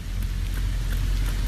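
Steady rain falling outdoors on a cold day around 44 degrees, a dense continuous hiss with low rumble, fairly loud and close with no voices.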